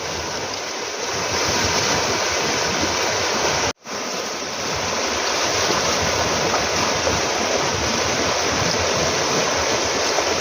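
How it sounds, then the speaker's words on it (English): Flash flood on the Dipsri River, a loud, continuous roar of rushing floodwater that fills the clip, broken by one very brief dropout partway through, with no voices. "123 flash flood, Dipsri River."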